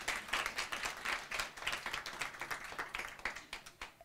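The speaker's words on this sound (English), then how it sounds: "so you should give yourself a clap" Audience at a women-in-tech community meetup clapping together, a steady, dense patter of many hands that carries on evenly throughout without any talk over it.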